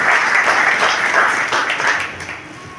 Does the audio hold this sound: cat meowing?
no